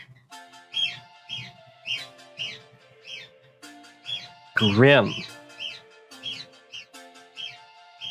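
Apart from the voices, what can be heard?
pet birds chirping and screaming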